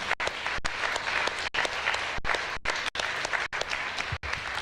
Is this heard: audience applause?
yes